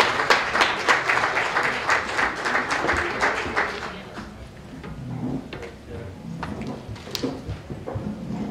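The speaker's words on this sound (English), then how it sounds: "Give a big round of applause for the Future of Music Conference for helping us put this together." Audience applause at a hip-hop bloggers conference, a dense burst of clapping for the first four seconds that thins into scattered claps and crowd noise.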